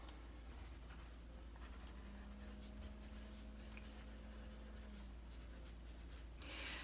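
Pen scratching across paper while a list is written by hand, a quiet, steady run of short strokes and scribbles close up with no talking.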